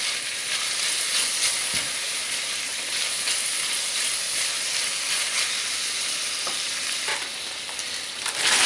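Greens sautéing in a pan for breakfast, giving an even, continuous frying hiss and sizzle that holds fairly steady throughout. A few faint scrapes and stirs come through, and there is no talking.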